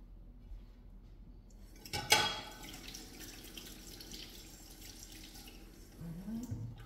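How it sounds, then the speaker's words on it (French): Running kitchen tap water rinses a pair of hands in a quiet room, a soft continuous trickle with a sharp clink of a dish or utensil early on. "Je me passe les mains à l'eau"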